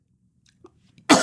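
A single loud, close cough bursts out after near-silence, a harsh broadband burst lasting a fraction of a second, preceded by a few faint small clicks.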